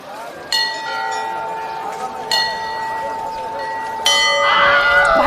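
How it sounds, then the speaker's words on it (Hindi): Temple bell rung loudly three times, each bright metallic strike ringing out and sustaining before the next, with a fourth strike followed by shuffling noise near the end. "घंटी जोर से बजाओ ताकि भगवान को पता चले कि उनके भक्त आए हैं।"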